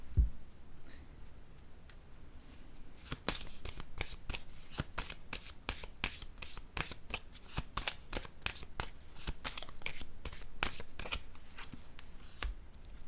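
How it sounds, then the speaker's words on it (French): Tarot cards are shuffled close by, a quiet, steady stream of crisp papery flicks and snaps lasting several seconds. "je vais piger une autre carte"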